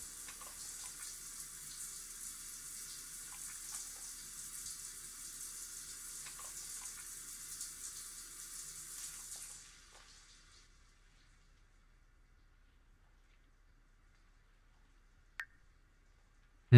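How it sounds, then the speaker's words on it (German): Steady splashing water from a shower in The Sims 4, a continuous hiss that runs alone for about nine seconds and then cuts off, followed by near silence and a single faint click. "Plätscher, Plätscher."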